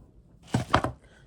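Knife chopping fresh ginger and turmeric on a board, a few quick close cuts bunched together after a quiet start, then fading to silence.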